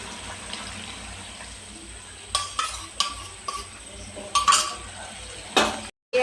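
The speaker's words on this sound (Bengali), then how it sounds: "আবার এটাকে ভালোভাবে নাড়িয়ে নিতে হবে।" Meat being stirred in a frying pan on a home stove, a soft steady sizzle broken by several distinct scrapes and clanks of the spoon against the pan.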